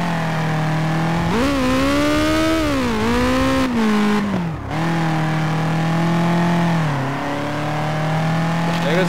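A truck engine revving in the Turbo Dismount game, a steady droning tone that climbs and dips in pitch as the throttle changes, loud and close throughout, with a brief dropout midway.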